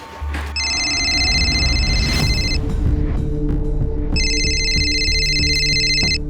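A mobile phone rings for an incoming call in a tense indoor scene, two bursts of a bright electronic ringtone separated by a gap, loud and close over a low hum and soft background movement.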